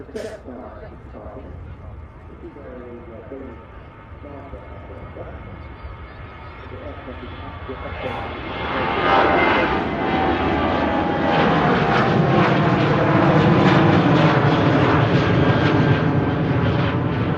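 Aircraft on the runway at Manchester Airport: a low jet rumble builds into a loud, sustained engine roar close by, with people chatting throughout.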